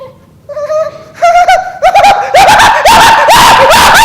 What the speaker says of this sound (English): Hyenas.